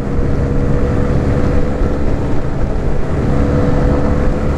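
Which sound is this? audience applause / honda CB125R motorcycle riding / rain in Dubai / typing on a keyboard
honda CB125R motorcycle riding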